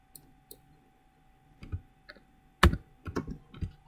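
Typing on a computer keyboard, a handful of sparse, crisp key clicks and a few quick clustered taps, close and alone.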